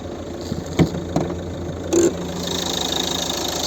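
A 2009 Volvo V50 with a two-litre Common Rail diesel and six-speed manual idles with the bonnet open, a steady low rumble punctuated by a few sharp knocks and clunks early on.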